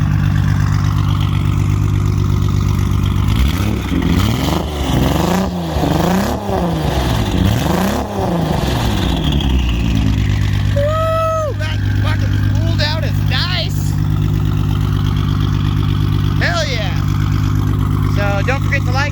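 A Nissan R32 GTR engine running up close, idling with a steady deep drone and then blipped through several rising and falling revs, followed by quieter idling with a few squeaky chirps.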